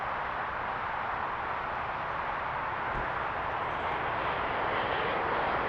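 An Air Canada heavy jet airliner taking off from runway 05 at Toronto Pearson produces a continuous, broad engine roar that holds steady and swells slightly toward the end.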